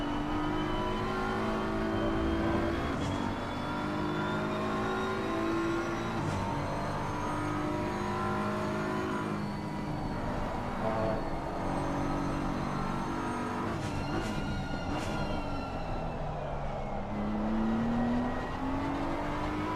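Racing car engine heard from onboard at Oulton Park, a loud continuous droning whine that rises through the gears with downshifts and rev changes, steady and close throughout.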